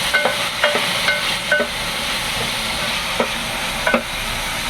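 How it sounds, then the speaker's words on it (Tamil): Tomatoes and brinjal sautéing in a pan for sambar, with a steady close sizzle under a series of sharp spatula scrapes and clicks at irregular intervals as the vegetables are stirred. "நல்லா ஓரளவுக்கு தக்காளி மசீர அளவுக்கு வதக்கிடுவோம்"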